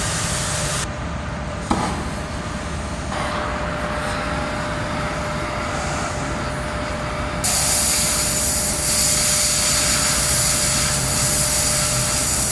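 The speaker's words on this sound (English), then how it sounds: "going to cut it with the Oxy and Tesla welding torch" An oxy-acetylene welding torch cutting through metal during a truck repair, a loud continuous roaring hiss that holds steady throughout with a brief pop near the start and a slight rise in intensity later, no talk.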